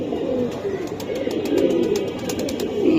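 Aluminium-coloured Giribaz pigeons at a pigeon sale coo steadily and fairly close, a continuous low warbling murmur with small clicks and rustles scattered over it.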